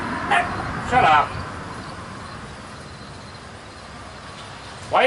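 A small dog lets out a few sharp, high yips in separate bursts, close by, with quiet background noise between them.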